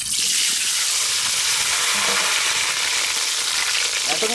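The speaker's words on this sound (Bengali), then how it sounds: "তেল গরম হয়ে গেছে, আলু।" Potatoes fry in hot mustard oil in a wok, set on a boat in the middle of a village pond, giving a steady, loud, continuous sizzle with faint stirring scrapes and no voices.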